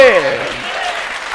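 A gathered audience at a Bible study sermon claps in a brief, dense burst that starts under a fading voice and continues evenly.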